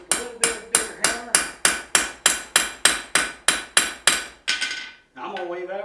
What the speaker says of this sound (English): Get a little bit of a bigger hammer.